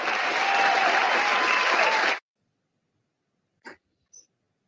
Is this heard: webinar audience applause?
yes